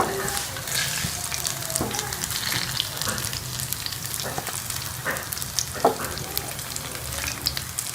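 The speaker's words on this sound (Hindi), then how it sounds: "इनकी साइड चेंज करके दोनों साइड से गोल्डन कलर आने तक फ्राई कर लूँगी।" Bread kabab cutlets fry in hot oil in a pan, a loud continuous close sizzle and crackle with occasional stirring clinks and spatula scrapes, with no talk over it.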